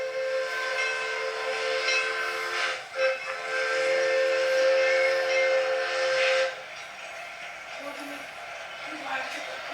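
The Inaka, a steam locomotive on the Lahaina–Kaanapali line, sounds a long, loud, steady whistle that cuts off suddenly, followed by the quieter chuffing and rumble of the engine steaming onto the turntable.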